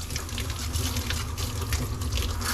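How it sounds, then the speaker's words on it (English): Water from a hose or sprayer hisses steadily as it soaks the thick coat of a Bernese Mountain Dog during a bath, a continuous close rushing spray. "She's going to start by soaking his coat."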